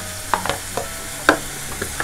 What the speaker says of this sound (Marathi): आता जरा हा परतून घेऊया कांदा आणि टोमॅटो